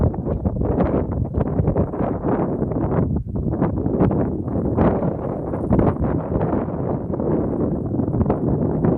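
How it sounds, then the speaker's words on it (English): Strong wind buffets the microphone continuously on a hilltop at the Mycenae ruins in Greece, a loud rumbling roar with gusts throughout and no talking. "It's pretty windy up here."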